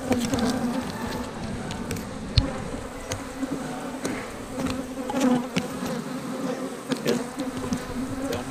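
Honey bees from a hive being moved swarm close by in a dense, continuous buzz, with scattered soft bumps and clicks from handling and no speech.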